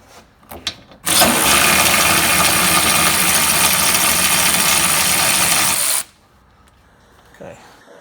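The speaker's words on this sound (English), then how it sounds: "electric ratchet." A Snap-on electric ratchet spins out a truck bump stop bolt on a 2017 Ford F-150 4x4, a steady loud whirring burst of about five seconds that stops abruptly.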